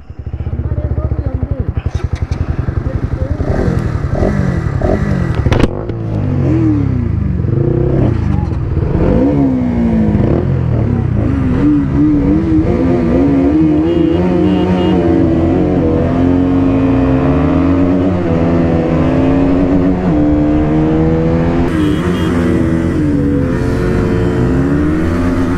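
KTM Duke 200, Bajaj Pulsar NS200 and Yamaha MT15 motorcycles in a long drag race, engines revving hard and climbing through gear changes, loud and close throughout, with someone speaking over them.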